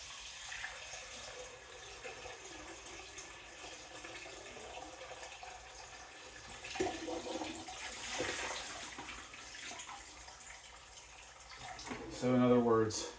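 Water pours into a 37-gallon planted aquarium tank, a faint, steady rushing and trickling that swells midway, with a voice speaking briefly near the end.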